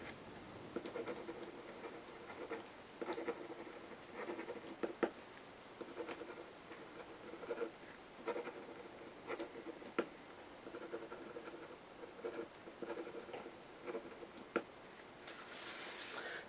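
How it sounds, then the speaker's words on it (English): A pen scratches steadily across paper as a name is handwritten several times over in a crisscross pattern, with quiet, close strokes and small ticks in an otherwise hushed room. "Then you write your name 3 times over that,"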